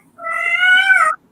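A pet cat indoors gives a single clear, fairly loud meow of about a second, alone with no talking.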